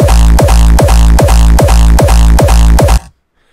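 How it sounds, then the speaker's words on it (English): A synthesized kick drum sample made in FL Studio repeats in a steady fast loop of loud, punchy booming hits, then cuts off into silence. "yeah, this is one of my new favorite kicks I made,"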